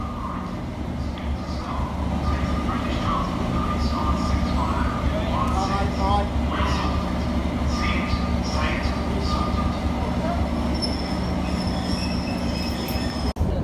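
A BR Class 37 diesel locomotive stands at arrival platform 6 at Norwich, its engine rumbling steadily while wheels squeal and metallic clicks and clatters rise over the drone, with faint station voices in the background.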